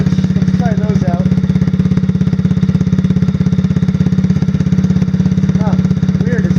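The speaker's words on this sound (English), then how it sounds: "it's a 110cc Honda clone engine. Automatic transmission, running pretty good" A 110cc Honda clone engine with automatic transmission on a new Chinese ATV idles steadily and loudly up close, a fast even putter throughout with someone speaking over it.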